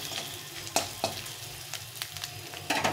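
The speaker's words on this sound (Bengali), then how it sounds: "দিয়ে এটাকে একটু নেড়ে নেব।" Cumin and chili powder being stirred in a hot pan, a soft steady sizzle broken by a few sharp scraping clicks of the spoon, close up with no voices.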